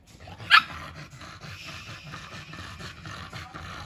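A frightened dog gives a single sharp bark early on, followed by faint whimpering and soft indoor rustling.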